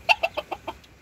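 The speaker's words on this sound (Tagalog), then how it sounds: "Manok labuyo." Red junglefowl clucking in a rural setting in Maco, Davao, five quick, evenly spaced clucks within about a second, close and moderately loud.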